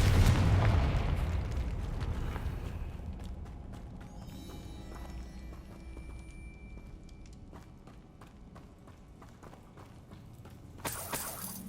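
A fiery Confringo spell explosion in the game Hogwarts Legacy bursts with a heavy boom at the start, then rumbles and crackles as it fades, and a sharp burst of noise returns right at the end.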